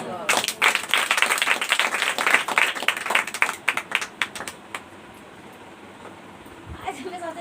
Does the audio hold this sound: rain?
no